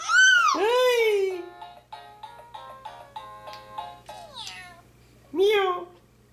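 A person imitates a cat's meow for a three-month-old baby, giving a long drawn-out voiced meow followed by babbling vocal sounds and a second shorter meow, close and clear.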